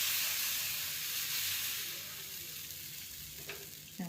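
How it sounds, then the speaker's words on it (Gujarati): Mixed vegetable pudla batter sizzles on a preheated nonstick pan, a loud hiss that fades slightly over a few seconds, with a brief utensil tap near the end. "હું પુડલો પાડવા જઈ રહી છું."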